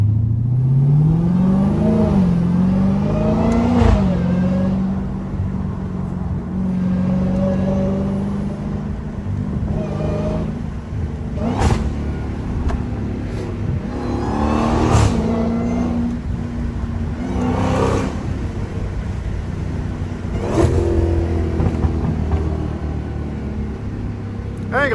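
A Dodge Hellcat being driven down a small road, its engine revving repeatedly in rising bursts over a constant deep rumble, loud and close throughout.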